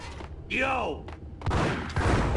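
Gunfire from the video game Max Payne, sharp broadband bursts after a whistling, gliding effect, loud and close amid other game sounds.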